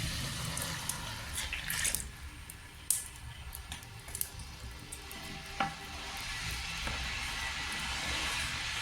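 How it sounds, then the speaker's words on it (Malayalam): First extract of coconut milk pours into a pan of thickening second milk for a postpartum medicine preparation, a soft steady liquid hiss and bubbling, close, with a few faint utensil taps and no speech. "നമുക്ക് 1-ാം പാൽ ഒഴിച്ചു കൊടുക്കാം."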